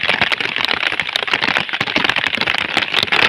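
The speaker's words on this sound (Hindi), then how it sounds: "बारिश बहुत तेज़ है।" Loud heavy rain drums down close by, a thick continuous hiss packed with sharp cracking splats of big drops striking hard surfaces, steady throughout with nobody speaking.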